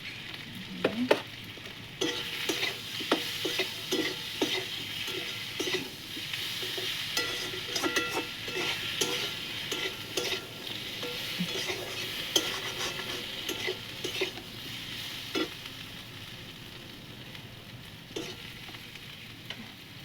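Young rohu fish curry with turmeric and green chilli paste is sautéed in a pan, giving a loud, steady sizzle throughout, broken by repeated spatula scrapes and taps against the metal. No one talks.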